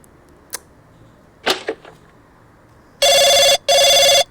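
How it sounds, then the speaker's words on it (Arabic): A telephone rings twice in quick succession, with loud, close electronic rings after a few faint knocks and rustles in an otherwise quiet room. "تليفون بيرن."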